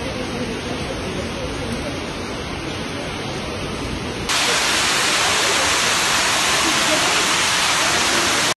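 Flood water rushing through Istanbul during a deadly flash flood, a steady loud roaring wash that jumps louder and brighter halfway through, continuous with no talking.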